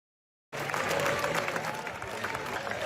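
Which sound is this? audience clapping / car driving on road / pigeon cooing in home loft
audience clapping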